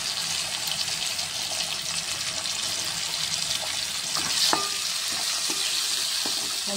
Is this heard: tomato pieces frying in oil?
yes